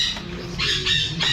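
A baby pied blue and gold macaw in a Florida pet shop lets out two or three harsh, nasal squawks in quick succession, close and fairly loud, with no talking.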